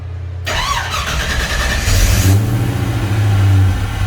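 A 1966 Chevrolet Impala restomod cranks and fires up, its engine catching abruptly and then settling into a loud, steady idle that rises slightly in a brief rev, close to the microphone with no talking.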